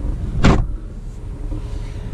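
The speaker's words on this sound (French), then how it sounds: "le véhicule va se mettre en route" A new Dacia Duster engine starts with a short, loud burst, then settles into a low, steady idle rumble.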